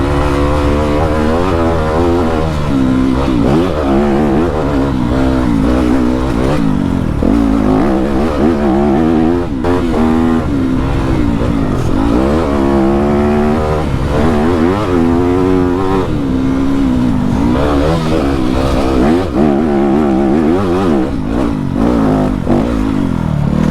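A Yamaha YZ250F four-stroke dirt bike engine revs hard and continuously as it is ridden, pitch rising and falling through the gears with a loud, close, steady drone and no voices.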